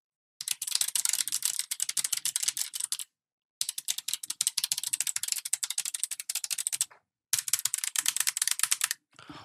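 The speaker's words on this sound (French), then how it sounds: "je vais quand même essayer de taper un peu dessus" Typing on an MSI Vigor GK50 low profile mechanical keyboard, quick crisp clicky keystrokes in three fast bursts separated by short pauses, close and fairly quiet, with no voices.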